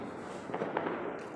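A Diwali firecracker goes off in a short, sharp bang near the end, after a stretch of diffuse outdoor rumble, with no talking.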